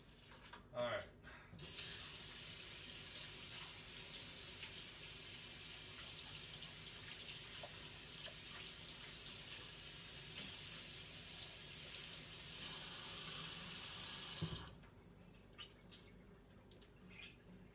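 Chicken being washed under a running kitchen tap, a steady broadband rush of water lasting about twelve seconds, starting and stopping abruptly, with faint handling noises before and after.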